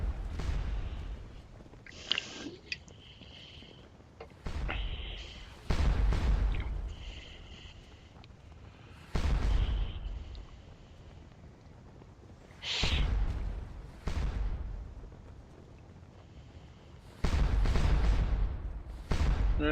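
Napoleonic cannon artillery in Scourge of War Waterloo, fired from several guns at the Wavre battle, with heavy booms at irregular intervals a few seconds apart, some near and some more distant, over a low battlefield murmur.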